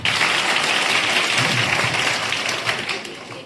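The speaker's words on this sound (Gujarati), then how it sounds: "તમે બી સરસ તાળી પાડો એમના" Audience applauding a students' dance performance at a school parents' meeting in Kheda: dense, steady clapping from many hands that fills the room for the whole stretch and eases off slightly at the end.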